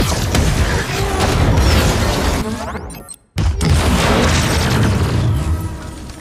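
Gunfire from a futuristic rifle in an action film scene, a dense, loud barrage of booming blasts and crashes with a brief dropout near the middle before the onslaught resumes.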